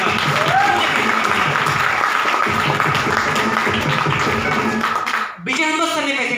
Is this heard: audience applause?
yes